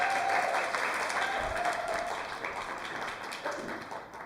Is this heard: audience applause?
yes